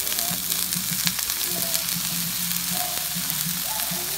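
Onions and broccoli frying in a pan for vegetable fried rice, a steady close sizzle with crackling pops and occasional clinks from stirring, with no voices.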